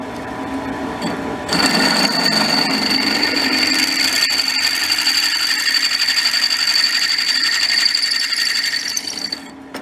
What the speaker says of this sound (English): what size hole I want to try to drill